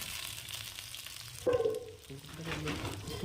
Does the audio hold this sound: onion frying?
yes